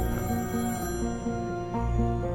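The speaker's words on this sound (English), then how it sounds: "his phone rang" A mobile phone rings with a repeating electronic ringtone, short tonal pulses in a steady pattern that carry over a dense, sustained background of music or ambient sound, with no speech.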